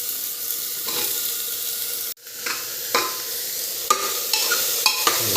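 Vegetables for a potato curry are stirred in a pressure cooker over a lowered flame, with a steady sizzle and repeated spoon scrapes and knocks; a short break interrupts it partway through.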